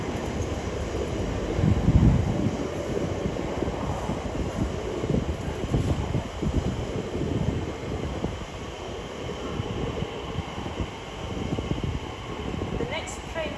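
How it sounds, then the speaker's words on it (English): An Elizabeth Line class 345 train running from Shenfield to London Paddington pulls into Stratford station, a steady broad rumble and whoosh of the arriving train with wind buffeting the microphone and a faint platform announcement beneath. "Incoming now is the slightly delayed 10:31 Elizabeth Line service from Shenfield to London Paddington"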